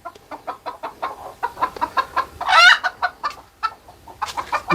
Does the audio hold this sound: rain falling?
no